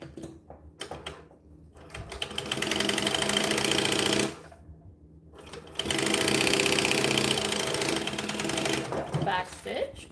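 A sewing machine stitches bag pieces together in two loud sustained runs with a short pause between, with the hum and rapid needle rattle close by and some talk around the bursts.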